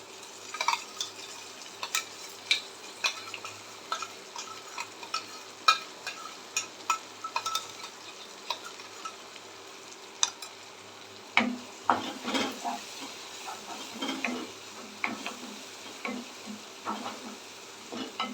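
Ground tomato sautéing in a pan for egg curry gives a faint, soft sizzle with scattered ticks and stirring clicks that grow busier toward the end, no talking.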